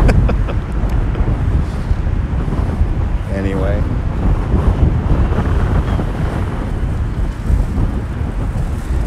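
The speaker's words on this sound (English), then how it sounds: "It's getting very windy out here now." Strong wind buffets the microphone outdoors by the water on a spring evening, a steady rumbling roar that lasts the whole time, with a single spoken word briefly over it.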